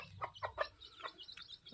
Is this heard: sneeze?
no